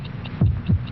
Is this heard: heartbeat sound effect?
yes